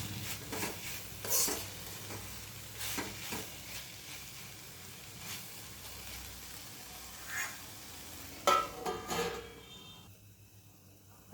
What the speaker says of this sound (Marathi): आता याला हलवून द्यायचं आहे परत एकदा झाकण ठेवून द्यायचं आहे